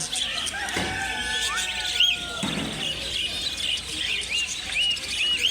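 Caged pet birds, including budgerigars, chirp and tweet at the Mirpur bird market in Dhaka. Short high chirps repeat over a busy market hum with some rustling.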